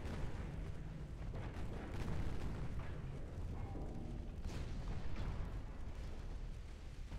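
Heavy 12-inch battleship guns firing in a naval battle in Ultimate Admiral: Dreadnoughts: a steady rumbling barrage of deep booms, fairly faint and continuous, with no talking.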